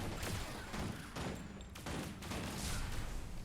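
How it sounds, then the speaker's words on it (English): Gunfire in Guild Wars 2, Path of Fire, aimed at Golemancer Gleeb's mech: a dense, steady rattle of shots running the whole stretch, with bursts swelling and fading over loud, continuous battle noise. "I'll just shoot him."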